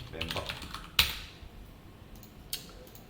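Computer keyboard keys typing code, with a soft run of taps followed by a couple of sharper isolated key presses, close and fairly quiet.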